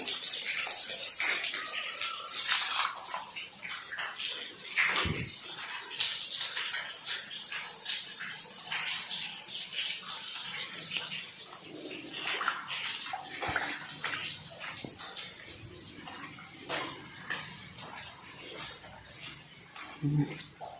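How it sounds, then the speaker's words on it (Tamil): Rainwater falling and splashing, a steady close hiss of water with scattered drips and clatters throughout, fairly quiet. "மழை விழுகிறது தான் கைஸ் உங்களுக்கு சவுண்டு அப்படி கேட்கும்"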